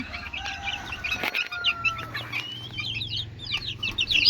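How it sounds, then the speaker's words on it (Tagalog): Hungry chicks and backyard chickens cluck and cheep together at feeding time, with a busy chorus of high peeps over lower clucks, close and continuous, plus a brief flutter of wings partway through. "Gutom na ang mga sisiw."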